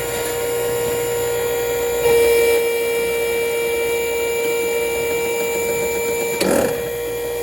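Rotary motion trainer spinning steadily in one direction, a steady mechanical whir with a fixed tonal hum and faint rattling, plus two brief louder clunks, moderately quiet.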